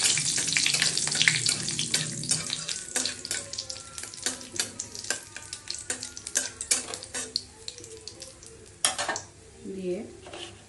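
Whole spices, including cumin seeds, cardamom and cinnamon, plus a dried red chilli frying in hot oil, with a loud crackling sizzle and clinking stirring that settles into a quieter fizz. No one speaks.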